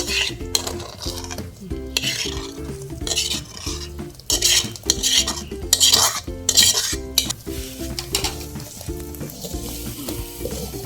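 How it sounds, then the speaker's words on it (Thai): Filling spooned into a stuffed egg omelette in a sizzling pan, with repeated clinks and scrapes of the utensil against cookware over steady frying and rhythmic background music. "เอาไส้ใส่เลยนะคะไส้ที่เราทำไว้ ไส้ใส่ไปเลย"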